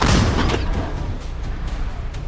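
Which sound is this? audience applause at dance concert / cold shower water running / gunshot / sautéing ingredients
gunshot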